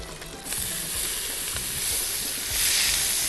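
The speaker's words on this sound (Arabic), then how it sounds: "هحط كده شويه زبده، تمام؟ وهبدا احط البصل" Onions frying in butter in a baking tray give a steady, close hiss of sizzling that swells louder toward the end, with no voices.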